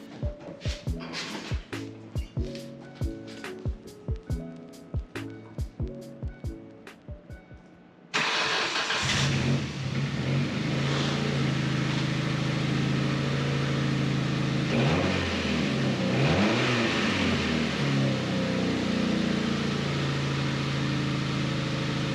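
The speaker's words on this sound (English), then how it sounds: "First start, since fixing a whole lot of things under the hood." A 2002 Ford Focus ZX3 cranks over in a series of repeated starter whirs, then catches and its engine runs loud and steady, revving up and down close by, after repair work under the hood.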